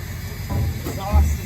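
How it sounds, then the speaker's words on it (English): Dump truck engine exhaust, a low rumbling hiss with a steady roar beneath, swelling in a couple of heavier low surges, with a voice faintly audible under the noise. "Exhaust is drowning me out."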